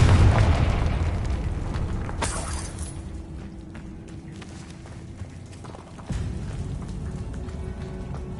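Fire-spell blast from Hogwarts Legacy, a video game: a loud booming burst with a brief bright crackle, then a long rumbling decay and a second heavy thud near the end.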